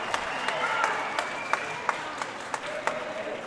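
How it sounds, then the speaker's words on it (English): A racquetball crowd bursts into applause after a diving get at a team finals match, steady clapping with a few sharp individual claps standing out while a commentator talks over it. "The crowd loves it."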